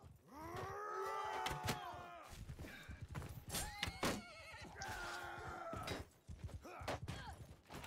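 A horse whinnies loudly in the Bannerlord video game during a skirmish battle, a long rising and falling neigh mixed with hoof clatter, clashing combat noise and further shorter horse calls.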